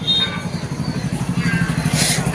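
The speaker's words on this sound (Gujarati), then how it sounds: "આ જો અનિકે ભાઈ બે બેસીએ હવે બાઈક ઉપર ને જઈએ હવે ઘેર." A motorcycle engine runs with a steady low throbbing putter, close by and continuous throughout.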